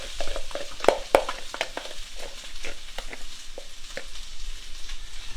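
Potatoes fry in hot oil, a steady crackling sizzle with a few sharper pops, close and fairly loud, with no voices.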